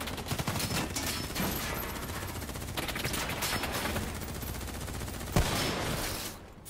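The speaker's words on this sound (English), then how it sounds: "Who's shooting?" Sustained automatic gunfire in Call of Duty: Black Ops III, a dense unbroken stream of rapid shots at steady loudness, fading slightly at the end.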